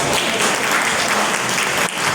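Dense, steady applause from a large audience at a conference event, broadband clapping filling the whole clip with a brief dip near the end, no voices over it.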